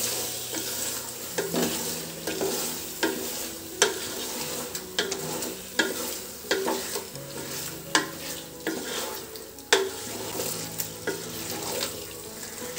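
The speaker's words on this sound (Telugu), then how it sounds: "ఇప్పుడు ఈ చికెన్ అంతా ఒకసారి ఫ్రై చేసుకోవాలి బాగా." Marinated chicken for a Karnataka-style chicken donne biryani fries in a pan while being stirred, a steady sizzle broken by frequent scraping stirs and clinks of the spoon, close and moderately loud with no talking.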